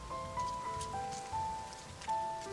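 Steady rain in the video game Rime, a soft continuous patter under sustained, mournful background music tones, with no talking.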